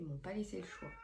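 A pet cat meows in a few short, close cries, heard under a person speaking French over it.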